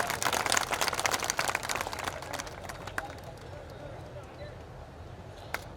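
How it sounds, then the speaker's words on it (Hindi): Audience applause welcoming a district chief at a community convention in Kareda, strong dense clapping at the start that gradually thins and fades out, with a few scattered claps near the end. "जिला प्रमुख साहिबा का एक बार जोरदार ताली से स्वागत करें"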